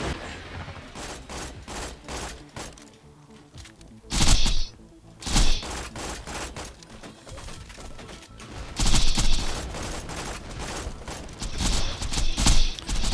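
Borderlands 2 combat on the Digistruct Peak challenge, with steady gunfire punctuated by several heavy grenade blasts and thuds, some louder bursts rising above a continuous layer of shooting and game sound.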